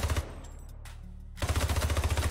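Rapid bursts of automatic gunfire from the player's weapon in the video game Hypercharge Unboxed, loud and close, firing in two clusters separated by a brief lull.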